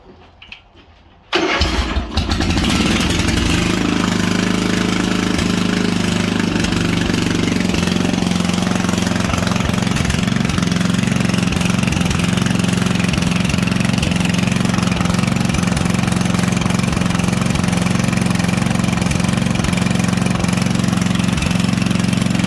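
A homemade mud mower engine starts after a brief quiet moment, then runs steadily and loudly at a constant idle-like pitch for the rest of the time, with no talking.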